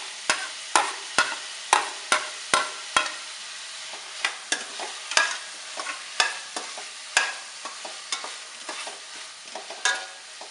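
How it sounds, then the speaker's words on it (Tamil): Tomatoes and onions frying in a pan on the stove, with repeated sharp scrapes of a spoon stirring through a steady close sizzle. "தக்காளி நல்லா வதங்கட்டும்."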